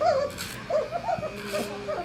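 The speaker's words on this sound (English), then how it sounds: "They bark and growl." Puppies vocalize in short, high yips and whimpers, several brief cries scattered across a couple of seconds, fairly close and moderately quiet, with no talk over them.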